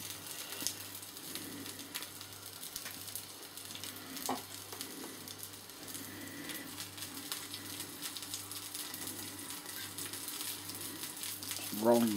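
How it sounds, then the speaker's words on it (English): Sausages fry in a pan with a soft, steady sizzle, occasional scrapes and knocks as they are rolled and turned, and a louder clatter at the end. "Cooking sausages, you gotta keep turning the damn things."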